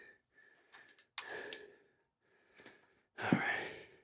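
Heavy, ragged breathing after a set of push-ups: a few quiet breaths, then a sharp loud exhale and a final long gasping breath, close to the microphone.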